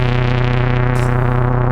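A Donner L1 synthesizer holds a gritty, grainy tone with noise mixed in, a sustained buzzing drone that sounds close to breaking apart, loud and continuous with a brighter noisy hiss entering halfway through.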